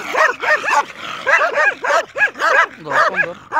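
Stray or aggressive street dogs barking repeatedly in quick yapping bursts, close and loud, with a few whimpering yelps as they rush forward to chase someone trying to run away.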